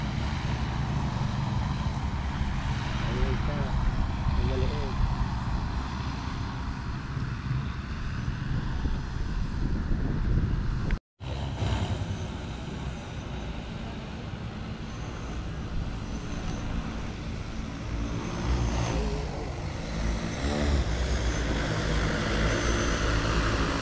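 An agricultural drone flies over a rice field during planting, its steady droning rotor hum continuous and loud with a brief dropout midway.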